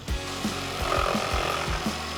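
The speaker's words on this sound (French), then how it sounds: "nous suivons le tracé avec la scie sauteuse et nous scions le long de notre trait de crayon" A jigsaw chatters through oak wood in a rapid buzzing cut, with rhythmic strokes pulsing about twice a second, close and steady.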